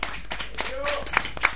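Clapping for a live band performing in a radio studio, a few brief sharp claps mixed with voices and cheering.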